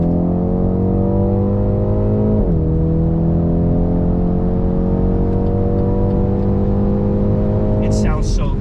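A BMW X2 M35i engine rises in a steady, loud note while accelerating, with a clear gear-change dip partway through and a continuous, harmonically rich drone throughout.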